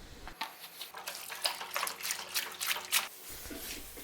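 Water is applied to dampen the surface of a homemade concrete fire pit outdoors, heard as a run of close, irregular splashy spatters and drips that fade out near the end.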